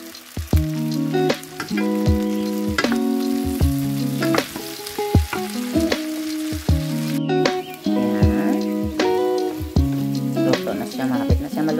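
Fried potatoes and eggs sizzle in a pan, a steady crackling hiss close up, with intermittent clanks and scrapes of a utensil stirring against the pan.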